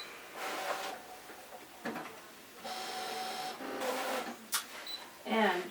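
Fabric cutting machine running a blade through quilt blocks, an intermittent mechanical whirring and sliding with brief clicks and carriage movements, fairly quiet and close, with a voice speaking over parts of it.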